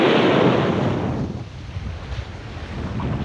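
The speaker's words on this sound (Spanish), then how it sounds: "hace un viento bastante agradable que nos lleva de largo con estas olas de 2 metros directos a Dublín" Steady roar of wind and two-metre waves while sailing toward Dublin, loud and continuous, with wind buffeting the microphone and waves surging against the hull, strongest at the start.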